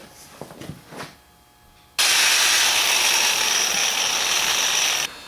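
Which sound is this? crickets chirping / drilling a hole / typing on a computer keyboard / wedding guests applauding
drilling a hole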